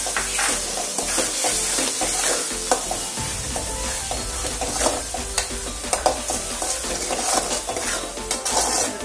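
Ground tomato paste sautéing in a pan for a thick sardine fish curry: a constant close sizzle with frequent stirring and scraping of a utensil against the pan, fairly loud, no voices.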